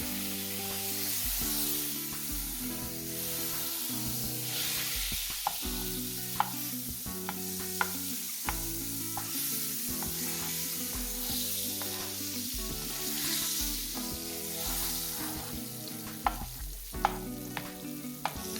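Eight tablespoons of butter sizzle in a soup pot as a spoon stirs it, a steady frying hiss with occasional soft scrapes, all under continuous background music.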